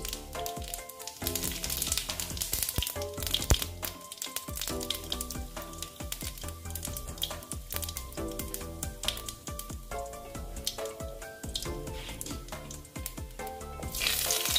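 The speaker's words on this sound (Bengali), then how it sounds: "দেখো তেলটা গরম হয়ে গেছে, আমি সাদা জিরে দিয়ে দিলাম।" White cumin seeds crackle and sizzle in hot oil in a karai, a continuous close frying hiss sitting under tonal background music.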